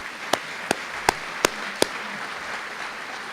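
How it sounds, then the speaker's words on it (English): At a university opening day address, five sharp hand claps ring out at an even, unhurried pace, then fade into quiet room tone. "Let's give the Division of Academic Affairs a round of applause."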